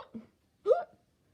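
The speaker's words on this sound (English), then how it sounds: "You're supposed to do 3 hiccups, not 2, not many." Two short, sharp hiccups sound close and fairly loud, a brief catch followed by a stronger gulping hiccup, with silence around them.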